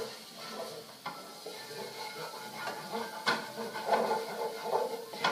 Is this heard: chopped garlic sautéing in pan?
yes